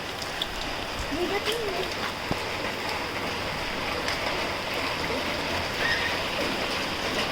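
Steady rain falls across the Konkan countryside during the monsoon, a dense, even hiss of drops on surfaces with faint water movement beneath, continuous and close throughout.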